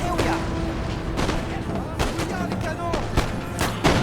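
Musket volley from Black Watch infantry in Napoleon Total War, several sharp gunshot cracks in ragged succession with booming battle noise beneath, loud and close.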